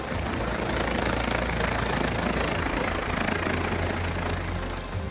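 A helicopter airlifts a sick person out of snowbound Kashmir, its rotor and engine drone filling the air in a loud, steady, close roar with no voices.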